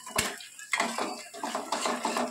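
A utensil stirs a beaten egg with fried vegetables and Maggi masala noodles in a pan, making repeated close metallic scrapes and clinks in an uneven rhythm. No voices are heard.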